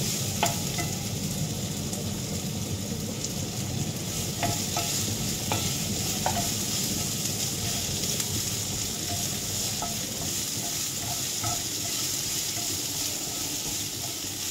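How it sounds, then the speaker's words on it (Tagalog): Red onion sautés in a pan for chicken steak, a dense, even sizzle with faint scattered clicks of stirring throughout. "igisa lang natin ng bahagya. Hanggang sa medyo lumambot siya."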